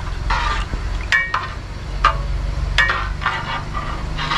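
Milk is stirred in a pan over a low, steady background rumble, with repeated light scraping and tapping strokes from the spoon roughly every half second to second.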